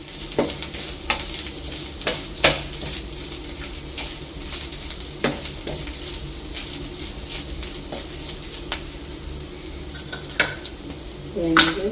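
Onion, green chili and curry leaves frying in a pan with coconut going in, a steady close sizzle punctuated by sharp spoon clatters and stirring scrapes against the metal.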